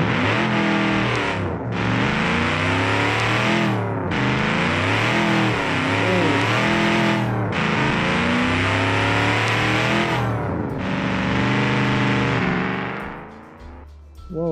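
A supercharged car engine in the BeamNG.Drive driving game revs hard and loud, climbing and dropping in repeated long pulls separated by brief gaps, with a harsh, gritty whine throughout and no voices.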